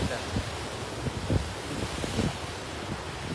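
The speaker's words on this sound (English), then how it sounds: "Either the waves splashing water or we just go close to them." Ocean surf washing onto a beach on Hawaii's Big Island, a steady broadband rush with soft irregular splashes and some wind buffeting the microphone.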